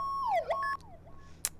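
An emergency vehicle siren from the Roblox game ERLC sweeps in quick electronic rising and falling tones, loud and close, then drops away abruptly, followed by a short sharp blip.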